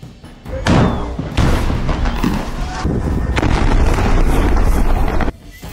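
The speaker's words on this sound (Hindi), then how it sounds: "अब इजरायल दक्षिणी गाजा में भी रफा क्रॉसिंग और खान यूनुस पर भयंकर बमबारी कर रहा है" Bombing in southern Gaza around the Rafah crossing and Khan Younis, heard as several heavy booming blasts in quick succession over a constant rumble and wind buffeting.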